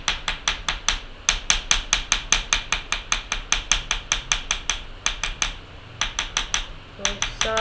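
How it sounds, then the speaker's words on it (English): Quick, regular metallic taps of a small hammer striking silver wire, close by, with a few brief pauses between runs. "I hammer it on the same side"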